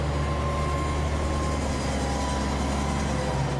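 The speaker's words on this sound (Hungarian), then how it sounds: "Megérkezett az ünnepelt a feldíszített kis vonat a mátrafüredi állomásra" A small decorated passenger train on the Mátra railway pulls into Mátrafüred station, a steady low rumble of wheels and carriages with a faint whine running through it, close and continuous.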